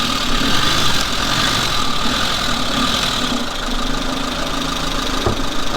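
A Suzuki Samurai engine runs loud and close with a rough, knocking drone that holds steady throughout, with no talking over it.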